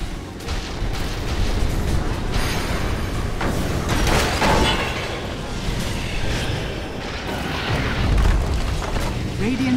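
Heavy booming crashes and rumbling destruction as barracks are torn down in a Dota 2 match, a dense, steady din of battle with brief louder bursts.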